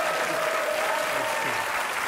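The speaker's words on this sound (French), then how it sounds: "je vous demande un tollé d'applaudissements pour monsieur Elio Di Rupo" Studio audience on a Belgian comedy show, Le Grand Cactus, gives a guest sustained, dense applause at close range, with a steady, even level throughout and no talk.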